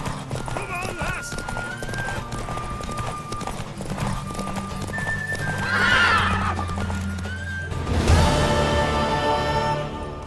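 A mare in The Witcher 3 clip-clops at a gallop, hooves drumming steadily while a whinny rises midway and a louder burst lands near the end, with voices speaking over the action.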